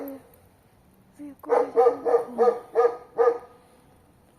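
A dog barks six times in a quick, steady series close by, preceded by a couple of softer whines in a quiet setting.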